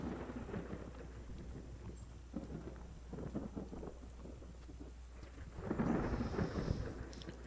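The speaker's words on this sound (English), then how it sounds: "Alright, it's raining again." Steady rain with low thunder rumbles in a survival game, a swelling roll of thunder near the end over the constant downpour.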